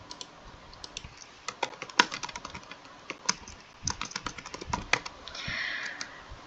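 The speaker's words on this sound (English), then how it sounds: "now I want to type two first letter of the first name" Fast, irregular typing on a computer keyboard, crisp close key clicks in bursts with short pauses, alone without talk.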